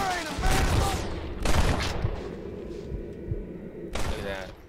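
Gunshots in the Western video game Red Dead Redemption: a few sharp, booming shots spaced across the clip, mixed with game sounds and someone talking.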